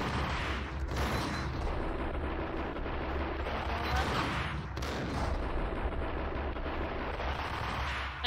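Gunfire in the shooter video game Max Payne, with bullets striking an escalator: dense, loud, continuous shooting with heavy booming bursts throughout and no talk.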